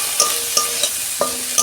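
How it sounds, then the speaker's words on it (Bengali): Onion and ginger frying lightly in oil, a steady close sizzle broken by several quick spoon stirs and scrapes against the pan at a loose rhythm. "এইগুলো আমি তেলে অল্প ভেজে নেব"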